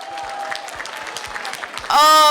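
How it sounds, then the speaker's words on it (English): An audience claps for local makeup artists at an Ancient Egyptian themed hair and makeup competition final, with moderate scattered applause and music underneath, then a loud sustained tone cuts in at the end. "Can we give them another round of applause?"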